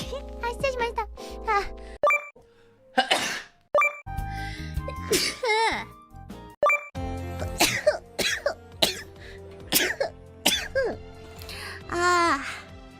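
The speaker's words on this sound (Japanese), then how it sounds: "あ、くしゃみ。" A run of sneezes, coughs and throat clearing from Nijisanji VTubers, short sharp bursts scattered among bits of talk and small exclamations, close to the microphone.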